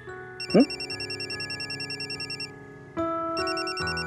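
A phone ringtone plays a repeating electronic pattern in steady pulses, pauses briefly, then starts up again.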